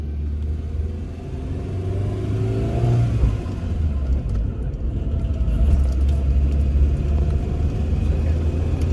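A 2003 Maruti Zen car pulls away in first gear, its engine drone climbing steadily in pitch as it accelerates, with a low rumble throughout and no talking.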